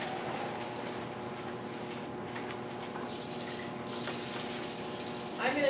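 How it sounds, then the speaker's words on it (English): Water runs steadily from a lab sink tap while a test tube is washed, a constant close hiss with faint clinks and a small splash near the end. "I'm going to need to wash a test tube"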